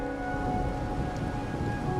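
Rain falls at night in the video game Wuthering Waves, a constant soft hiss of drops with a faint low rumble beneath, steady throughout and without speech.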